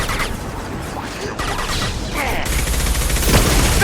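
Gunfire from a PC Mass Effect 2 battle hitting a squadmate, a dense run of shots and impacts that swells louder toward the end over a busy mix of combat noise.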